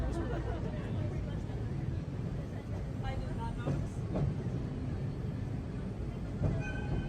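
A train in Japan rumbles steadily from inside the carriage, a continuous low roar with faint clicks and murmured background voices throughout.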